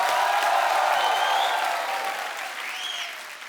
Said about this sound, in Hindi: अक्षय पाजी के लिए जोरदार तालियां हो जाए एक बार।